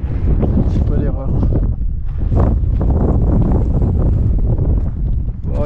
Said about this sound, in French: il y a un beau petit vent, Amandine